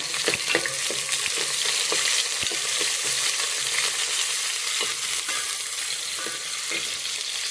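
Coarsely chopped onion fries in hot oil, a steady bright sizzle with scattered clinks and scrapes of stirring, fairly close and with no talk.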